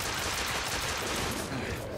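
Rapid gunfire from The Order: 1886, a dense continuous burst of loud shots filling the whole moment, with a voice mixed in.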